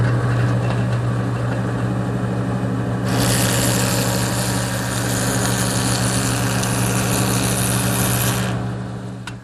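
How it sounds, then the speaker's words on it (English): A jointer with its fence tilted to 15 degrees hums steadily as wood pieces are fed through, and a brighter, louder cutting roar rises over the motor for several seconds before dropping back. "So to do that, I've set up my joiner, and I've tilted the fence to 15 degrees,"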